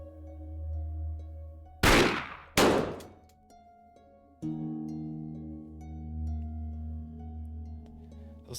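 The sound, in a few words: gunshots in the video game 7 Days: Origins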